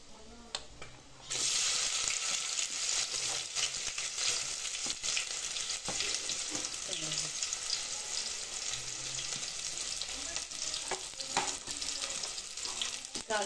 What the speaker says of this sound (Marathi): नंतर मग कांदा घालायचा।